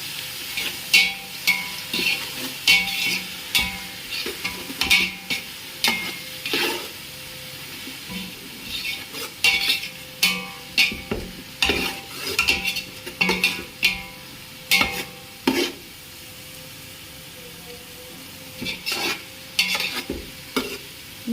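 Onions or spices frying in about three tablespoons of oil for Nati-style masala chicken biryani, with repeated scraping stirs of a spoon against the pan over a steady low sizzle, close and fairly loud, with no talking.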